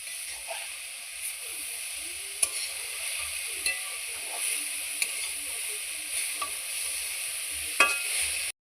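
Grated carrots fry in a pan for gajar halwa, giving a soft continuous sizzle with repeated scraping and clinking as a spoon stirs them through the hot fat. Faint talking is heard in the background.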